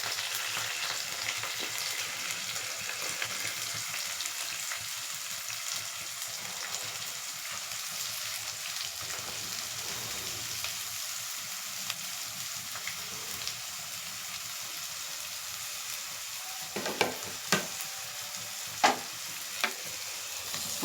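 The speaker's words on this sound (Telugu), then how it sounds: "పచ్చిమిర్చి, కరివేపాకు అన్నీ వేసేసుకుని ఆనియన్ బాగా ఫ్రై చేసుకోవాలి." Chopped onions, green chillies and curry leaves fry in a pan for a catering-style egg gravy curry, a continuous soft sizzle with a few sharp stirring clinks near the end.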